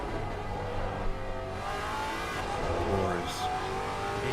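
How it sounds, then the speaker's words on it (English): A race car engine at the Bathurst 12 Hour weekend revs and drones steadily at a distance, with a rising and falling roar over crowd and track ambience while people talk nearby. "I've got to listen to this car"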